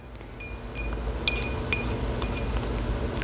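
Water being stirred in a container with food coloring during a kids' science experiment: soft sloshing under a low background hiss, punctuated by several faint, bright glassy clinks as the stirrer taps the sides.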